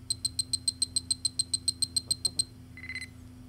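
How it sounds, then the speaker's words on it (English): A Star Trek communicator on a 33 1/3 read-along record gives a rapid series of about fifteen high, evenly spaced electronic chirps, then a brief lower warble, over a faint steady hum. "You will know it is time to turn the page when you hear the communicator beep like this."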